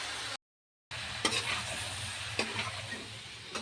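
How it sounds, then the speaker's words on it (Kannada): Boiled potato and cauliflower stirred into a hot frying pan, with a steady sizzle and hiss broken by a few scraping stirs of the spoon, after a brief silent gap. "ಈಗ ಆಲೂ ಮತ್ತು ಗೋಬಿನ ಕುದಿಸಿಟ್ಟಿದಲ್ರಿ ಈಗ ಇದ್ರಾಗ ಹಾಕಿಗ ಮಿಕ್ಸ್ ಮಾಡ್ಕೊಂಡ್ಬಿಡ್ತೀನಿ"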